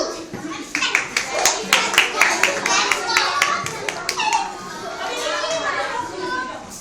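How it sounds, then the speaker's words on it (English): A group of children at a school science event clap in a quick, uneven burst of many hands, loud and close, with young voices chattering over and after the applause. "Okay, so clap. Clap to them."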